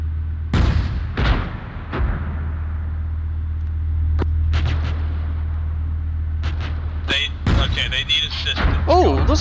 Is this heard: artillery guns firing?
yes